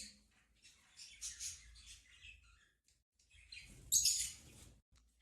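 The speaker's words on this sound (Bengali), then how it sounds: "আর এই সেই লাভবার্ড পাখি" Small caged lovebirds give faint, scattered chirps and high squeaky tweets in short bursts, with a louder cluster of calls near the end against a quiet background.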